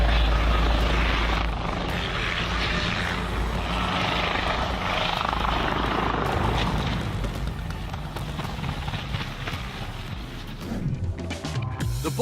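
A helicopter flies nearby, its heavy rotor thump and engine whine steady and loud at first, then thinning out toward the end.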